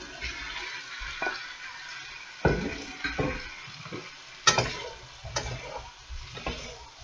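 Vegetables drop into melted fat in a pan, setting off a steady low sizzle and frying crackle with occasional sharper pops and stirring clatters, close and moderately quiet.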